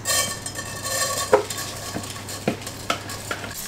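Rice being stirred and drained in a cooking pot on a home stove, with repeated scraping and clinking of a utensil against the metal over a low steady background hiss, close and moderately loud, no talking.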